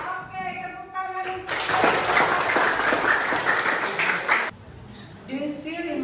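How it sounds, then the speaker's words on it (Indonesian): A classroom of students clapping hands during a children's action song lesson, a loud burst of dense clapping for about three seconds between singing and chatter from the class. "If you're happy and you know it, clap your hands. Okay, tepuk tangan."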